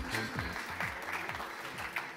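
A conference audience at an IT and innovation event claps faintly and steadily, a soft, distant patter of many hands with no voices over it.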